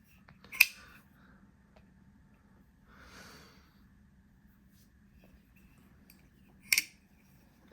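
A Kershaw Launch 17 USA-made automatic pocket knife flicks open twice with sharp metallic snaps several seconds apart, faint breathing in the quiet between.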